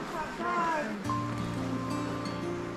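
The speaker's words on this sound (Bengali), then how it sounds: "আবার জল যাচ্ছে।" Water flows past a homestay in West Sikkim in winter with a steady, broad rush, while voices talk over it throughout.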